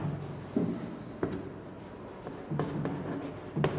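A pen scratches across paper in close, soft strokes with a few sharper taps, as someone writes out a math problem in a quiet room.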